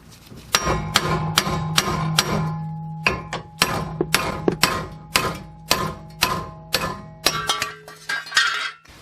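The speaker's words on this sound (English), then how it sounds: "a lot of times you can just get a hammer and bang on it right here" A hammer strikes a wheel bearing assembly on a Pontiac Grand Prix again and again, ringing metal clanks at an uneven pace, close and loud, with no talking.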